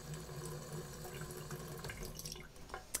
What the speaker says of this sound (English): dampen the end of it with a little bit of water